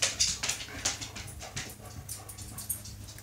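Dogs whimpering and panting close by, soft repeated whines and quick breaths in short bursts over a quiet indoor background.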